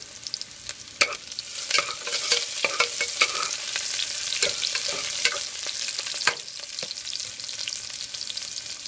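Four large onions fry in a pan for a chicken curry, a steady sizzle broken by frequent scraping stirs and clinks of a spoon against the pan, close and fairly loud.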